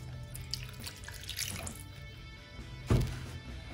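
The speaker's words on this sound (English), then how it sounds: "I give the seeds a little rinse." Running distilled water splashes steadily over hops seeds being rinsed, with a brief louder gush near the end as the stream hits something.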